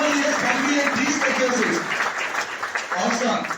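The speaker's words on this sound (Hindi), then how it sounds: "एक बार फिर से जोरदार ताली सारे लीडर्स के लिए।" An audience applauds loudly and steadily for several seconds, the clapping continuous and close, with a voice talking over it.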